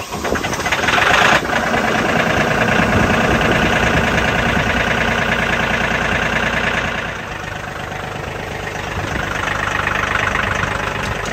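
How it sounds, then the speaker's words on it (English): A Mahindra 1635 compact tractor's diesel engine runs steadily with a snow blower engaged, a loud, continuous mechanical drone that shifts slightly partway through and carries on without talk. "I'll turn the snow blower on just to get a place to turn around."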